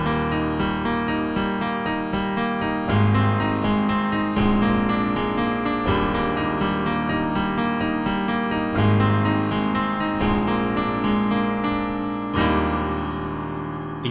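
Piano plays the Swords and Sandals song chorus in a major key, a steady ascending melody over low left-hand notes, sustained and continuous with phrases restarting every few seconds.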